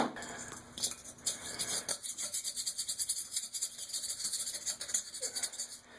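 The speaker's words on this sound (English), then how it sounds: "Now this is the parts we're going to clean with the razor scraper and a little all-purpose cleaner" A razor scraper rasps over porcelain toilet parts with a little all-purpose cleaner, producing steady, close scraping strokes in a repeating back-and-forth rhythm, bright and gritty, with no talking.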